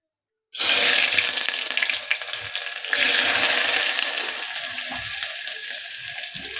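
Chopped onions and green chillies hit hot oil in a pressure cooker for a country-chicken curry, bursting into a loud, steady hiss of frying that holds on without any voices.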